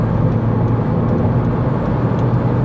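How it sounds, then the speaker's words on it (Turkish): Hyundai Accent Era 1.4 at full throttle around 100 km/h going slightly downhill, a loud, steady in-cabin engine and road drone with no breaks. "Arkadaşlar şimdi 100 km hızla hafif rampa aşağı dip gaz yaptım."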